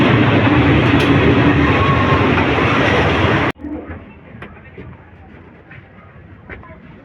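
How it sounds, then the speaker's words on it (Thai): A train rumbles loudly and steadily close by, then the sound cuts off abruptly to a quieter background with faint voices. "รถไฟมาแล้ว"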